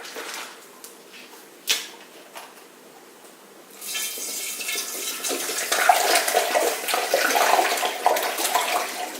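A few soft clicks and knocks, then water starts pouring steadily into a container of grape juice for winemaking, a rushing splashing stream that grows louder and continues.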